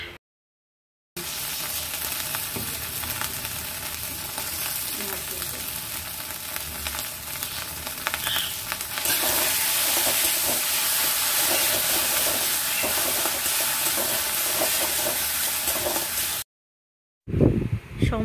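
Mankochu paste, ground from giant taro, two kinds of mustard, green chili and salt, fries with turmeric and grated coconut in a pan. A continuous, fairly loud sizzle runs with stirring scrapes and breaks off briefly at both ends.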